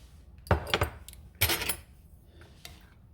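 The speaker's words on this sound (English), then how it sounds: "Give that a little bit of a stir." A metal spoon stirs black-eyed peas in a cooking pot, clinking against the sides. Two clusters of bright, close scraping clinks are followed by a few fainter taps in an otherwise quiet kitchen.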